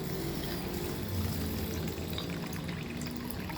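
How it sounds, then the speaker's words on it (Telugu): Water poured over soaking fenugreek seeds in a bowl makes a steady, continuous splashing rush, close and even in level from start to finish. "ఇవి వాటర్ పోస్తున్నాను."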